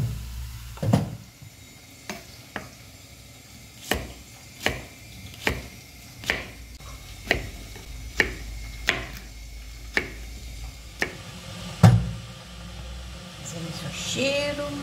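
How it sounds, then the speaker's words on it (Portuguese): Okra sautéing in a pan, with steady, evenly spaced spatula knocks and scrapes against the pan over a faint, low sizzle, fairly quiet and close. "Vou refogar esse quiabo"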